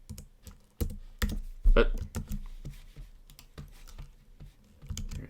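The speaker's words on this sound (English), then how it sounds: "You can see I'm pressing the keys now" Computer keys are tapped in irregular, close, crisp clicks spread across several seconds, with a brief spoken word mixed in.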